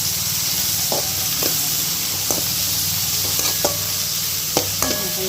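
Onions sautéing in hot oil for a chicken pepper fry, a steady close sizzle with intermittent scraping and stirring knocks of a spoon against the pan, with no talking.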